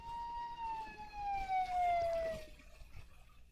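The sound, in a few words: siren in film Night of the Living Dead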